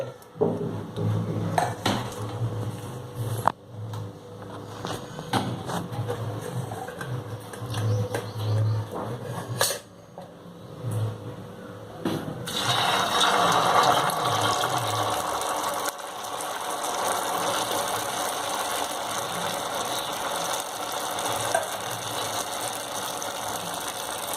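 Veg lollipops deep-fry in hot oil with a dense, continuous sizzling hiss, mixed with metallic utensil clatter and scraping against the pan, and no speech.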